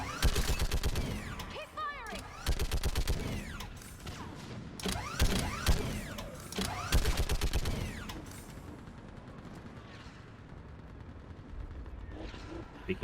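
A mounted gun in the video game Mass Effect 3 Legendary Edition fires in bursts of rapid, punchy shots mixed with mechanical clanks, loudest in the middle stretch before fading into quieter battle ambience.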